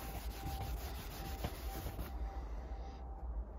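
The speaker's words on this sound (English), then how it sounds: "Buff it off with a clean cloth," A dry, clean cloth buffs a first-generation JCW leather car seat in steady, scratchy rubbing strokes, close and continuous with no voices over it.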